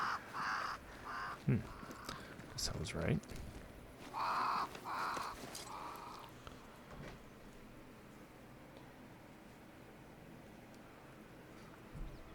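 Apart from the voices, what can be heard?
crows cawing in video game Banishers: Ghosts of New Eden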